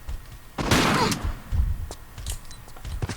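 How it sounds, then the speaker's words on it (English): Shotgun blast in a Tomb Raider custom level, one loud burst early on, then smaller impact noises and scattered game effects trailing off. "it's a one-shot kill with the shotgun, so you have to use the shotgun"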